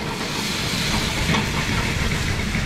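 Whiskey and maple syrup cooking down in a hot pan, a steady loud hiss and sizzle bubbling continuously without a break.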